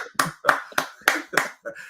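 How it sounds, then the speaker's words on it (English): A few people on a football panel show clapping in about six sharp, separate claps, close and moderately loud, alone without speech. "Everyone clap for Wolfie"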